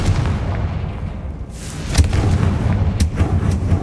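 Confringo blasting spells from Hogwarts Legacy, sharp explosive bangs at around two and three seconds landing over a low rumbling game backdrop.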